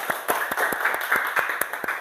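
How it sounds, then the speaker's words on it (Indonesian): A classroom audience gives a short round of steady, rhythmic hand clapping for the top-ranked student, with several sharp claps close together over a couple of seconds. "Berikan tepuk tangan dulu."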